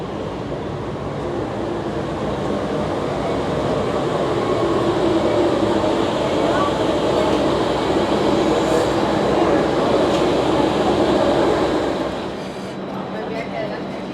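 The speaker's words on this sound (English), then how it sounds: "the train is arriving" A Maya Train from Cancun rumbles steadily into a station, a loud continuous roar that swells and then eases off near the end.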